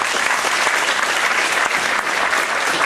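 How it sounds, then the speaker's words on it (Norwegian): Dense, steady audience applause fills a revue show at a Breidablikk party evening, many hands clapping close and loud without a break for the full few seconds, no voices standing out. "så vi gir de også en kjempestor applaus"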